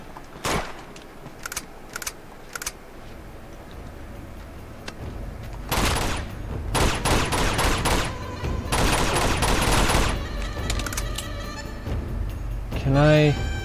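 Gunfire in the Uncharted 2: Among Thieves video game at a monastery, scattered single shots and then dense loud bursts of rapid fire, with game sounds in between and a player's voice at times.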